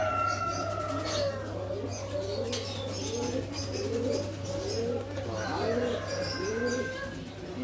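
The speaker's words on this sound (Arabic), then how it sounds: "حمام السيبير" Pigeons coo in repeated soft, rolling calls at a pigeon market, over a steady low hum, with occasional chirps and a faint flutter in the background.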